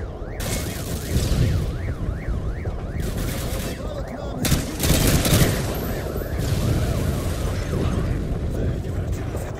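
Call of Duty Modern Warfare 2 combat roars with heavy, sustained gunfire and booming blasts in a dense, continuous battle mix, with a repeating electronic warble and voices heard over it.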